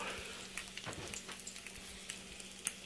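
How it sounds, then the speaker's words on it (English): Eggs fry quietly in a pan, a soft steady sizzle broken by small pops and crackles throughout, close by with no voices. "Look at those eggs cooking."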